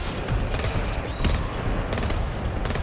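A rapid burst of gunfire in the GTFO video game, several sharp shots in quick succession amid a dense, loud mix of combat noise.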